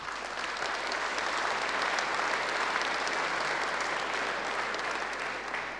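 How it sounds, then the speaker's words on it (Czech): Sustained, dense applause from a large crowd at a Czech Social Democratic party congress, steady and loud throughout without a break. "Myslím si, že si to zaslouží potlesk,"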